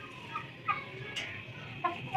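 Chickens and a rooster in a farmyard give a few faint, soft clucks spread across a short stretch, heard at a distance against low background noise.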